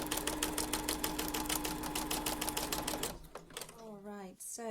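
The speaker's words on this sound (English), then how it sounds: "I have sewn all the way round 3 of the edges" Sewing machine stitching around the edges of faux rice paper pockets, a fast steady mechanical rattle for about three seconds, then it stops and a person starts talking.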